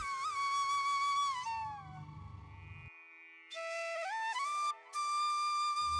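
A pressure cooker whistling on medium flame while cooking chicken curry: a loud, shrill whistle with wavering, sliding pitch that cuts off briefly and then resumes.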